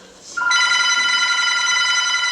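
A telephone bell rings loudly and steadily after a brief quiet moment, a continuous bright electric ring in a stage production of The Drowsy Chaperone, with no voices over it.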